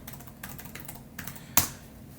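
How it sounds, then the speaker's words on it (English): Someone types a password on a computer keyboard: a few soft, irregular key clicks spread over two seconds, then one sharper, louder keystroke near the end, with no talking. "It's going to ask me for my password, which I will type in, probably not very well"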